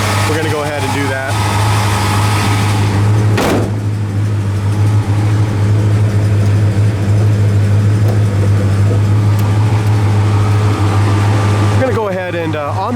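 A 1970 Plymouth GTX, an original low-mileage car, rumbles along the road with a steady engine drone and cabin hum, a brief rev near the start, and a voice talking over it.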